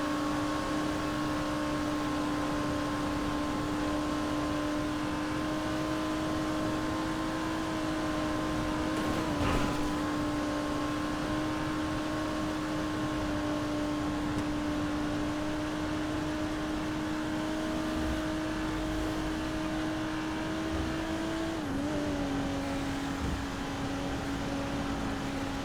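Steady engine drone of a car driven in the video game GTA 5, a constant mid-pitched hum with faint harmonics that dips briefly in pitch twice, heard alone without talk.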